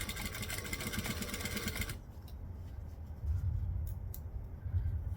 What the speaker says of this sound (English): So we're going to go down, one needle stitch in, turn, and then down this side